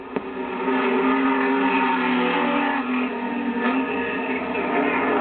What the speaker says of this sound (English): There goes the race, and there goes the new leader in the race, and that, of course, is Jimmy Richards in the Archibald BMW 635